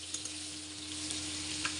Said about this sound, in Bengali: তো আলুগুলো আমি ভেজে নিব, ভাজা হতে থাকুক।